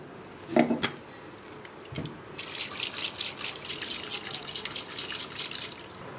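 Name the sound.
rinsing a container with hot water and shaking it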